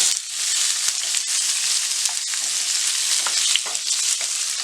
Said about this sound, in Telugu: ఆయిల్ వేడైన తర్వాత కట్ చేసుకున్న పన్నీరు వేసుకొని ఫ్రై చేసుకోవాలి